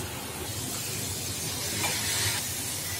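Potato for a patty filling fries in a pan, giving a steady, close sizzling hiss that swells slightly near the end, with no talking.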